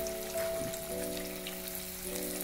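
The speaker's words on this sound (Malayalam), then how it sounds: "അത് ചൂടായപ്പം നമ്മൾ പുരട്ടി വെച്ചേക്കണം മീനിട്ട് ഒന്ന് ഫ്രൈ ചെയ്തെടുക്കുകയാണ്" Vatta fish fries in hot coconut oil with a steady bubbling sizzle, close and even, with faint tonal hum lines running underneath and no talking.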